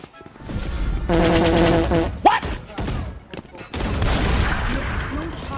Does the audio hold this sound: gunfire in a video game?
yes